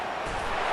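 A football stadium crowd roars behind the home defense before a big third down, a broad, steady wash of cheering with no break.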